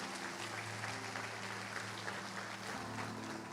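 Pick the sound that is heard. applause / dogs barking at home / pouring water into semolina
applause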